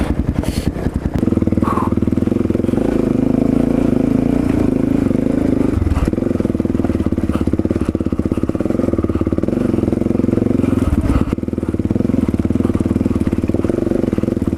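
A dirt bike engine drones steadily while riding over rocks, with clattering and scraping jolts and a few sharp knocks, close and loud throughout.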